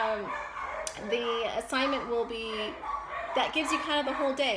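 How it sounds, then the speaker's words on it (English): Dogs bark repeatedly at home after the doorbell rang, sharp yips and barks mixed with whimpers, loud and close, under and between a person talking. "Pardon my dogs. I'm at home and the doorbell rang,"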